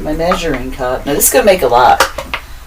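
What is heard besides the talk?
No everyday noises stand out.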